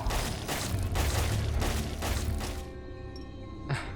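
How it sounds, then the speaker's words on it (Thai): A bomb goes off in the Roblox game The Breakout, a heavy rumbling blast that stays loud for about two and a half seconds, then cuts off into a quieter tail with a small thump near the end. "เฮ้ยมีระเบิดด้วย"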